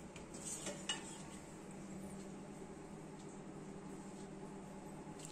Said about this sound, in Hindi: अब बर्तन निकालते हैं